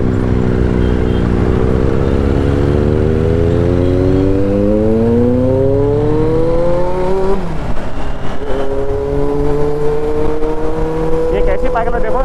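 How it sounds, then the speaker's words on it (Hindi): A Kawasaki Z900 or KTM Duke 790 motorcycle engine revs loud and close, its pitch climbing and falling over repeated throttle blips, with a voice talking over it. "बाइक की साउंड मुझे बहुत ज़्यादा आ रही है"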